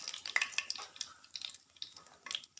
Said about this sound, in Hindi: ज़ीरे को 10 से 15 सेकेंड के लिए हमने जस्ट क्रैकल करना है